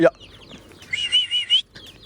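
Free-range village chickens give a few close clucks and chirps around a scattering of feed, with a brief voice calling at the start.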